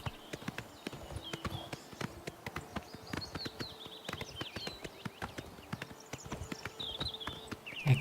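Horse hooves clip-clop at a steady walking pace in Oblivion Remastered, the Elder Scrolls fantasy RPG, with continuous close taps over a faint ambient bed of birdsong.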